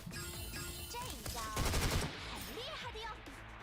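Rapid gunfire from the video game Super Godzilla Wars crackles in a short dense burst midway, set among chirpy electronic game effects and tonal sweeps that run throughout.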